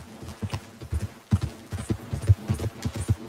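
A horse gallops in Red Dead Redemption 2, its hooves beating in a fast, uneven clip-clop rhythm, close and fairly loud with no talk over it.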